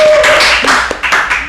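A few people clap for Fadila on a TV talk show, a short burst of close, uneven handclaps lasting about a second and a half, with no talk over it.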